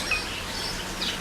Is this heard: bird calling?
yes